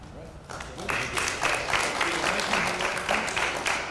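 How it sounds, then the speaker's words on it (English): A school board meeting audience gives a round of applause for students, clapping swelling up after a quiet start into a steady, moderately loud wash of hands that continues to the end, with faint voices underneath. "give him a round of applause too, because he deserves it."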